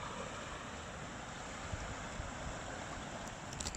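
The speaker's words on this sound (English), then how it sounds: "you can hear the sea." Sea waves wash steadily along the Lytham seafront at high tide, a continuous broadband surf roar mixed with wind noise on the microphone, with no talk over it.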